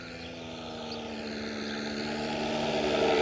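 A radio-controlled model plane's propeller whines steadily during flight, a constant buzzing drone that grows gradually louder as the aircraft approaches, with no talking.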